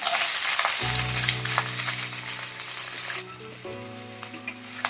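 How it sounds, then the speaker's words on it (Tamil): Ground onion paste and curry leaves fry in hot oil for idli manchurian, giving a steady close sizzle under a low constant hum, with occasional stirring scrapes and no talk. "வெங்காயம் நல்லா கோல்டன் ப்ரௌன் கலர் ஆகிற வரைக்கும் நல்லா வதக்கிக்கலாம்"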